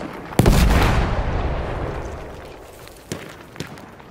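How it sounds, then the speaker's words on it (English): A grenade in Battlefield 1 bursts close and loud with a sharp crack and a long rumbling decay, followed by two fainter distant shots. "Throwing a grenade!"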